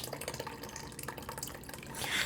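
Whey from homemade Italian cheese curds drips and trickles through cheesecloth into a cheese basket and bowl, a soft close patter of liquid with a brief louder splash near the end.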